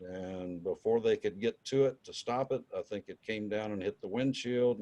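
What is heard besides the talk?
No distinct noise like a dog, phone or traffic.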